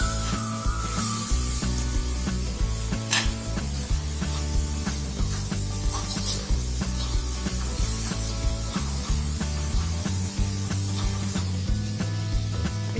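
Vegetables stirred in an uncovered wok for chicken thukpa soup, with continuous scraping and rubbing of the spatula against the metal, steady and close, and occasional sharper knocks, with no voices.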